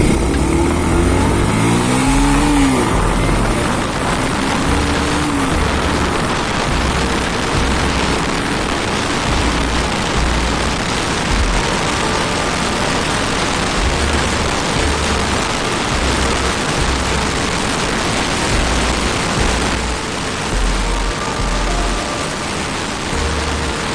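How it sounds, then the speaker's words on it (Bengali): Bajaj Pulsar 150 at top speed on an open one-way road, heavy wind rush over a strained engine note, with a rising rev as it accelerates at the start and a constant loud roar after. "এখন আমি এই বাইকটার টপ স্পিড চেক করবো"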